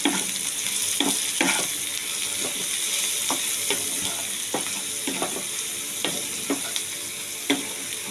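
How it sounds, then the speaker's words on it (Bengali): Chopped ginger and garlic sizzle hard in hot oil over a full flame while a spatula scrapes and stirs the pan in regular strokes, the metallic scrapes recurring about once a second over a steady, close frying hiss. "এবার আমি সবগুলো দিয়ে ভালো করে ভেজে নেব"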